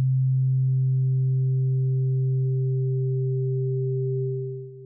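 A steady low synthesized tone from a Newfangled Audio Pendulate synthesizer, with its chaos amount turned up, has a faint higher overtone layered above it, sustained for several seconds before trailing off.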